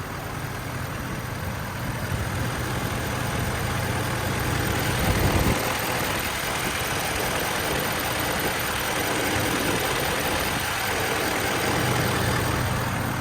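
A 2012 Ford F550 mechanics crane truck with a 6.7 diesel idles steadily, its PTO chattering from underneath, a continuous, even engine drone with no breaks and no one talking.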